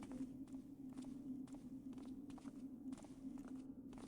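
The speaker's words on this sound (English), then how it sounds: "I hear footsteps now" Steady footsteps in the Thief II: The Metal Age video game, evenly paced and fairly close, stepping over a constant low ambient hum with no talking.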